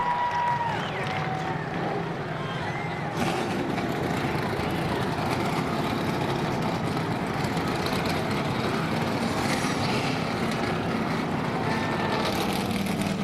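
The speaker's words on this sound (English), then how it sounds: "the engines have fired here at Michigan" NASCAR stock car engines fire up together at Michigan for the 2003 Sirius 400, a dense, steady roar of many engines with a sharp swell partway through, holding loud and continuous with no voices over it.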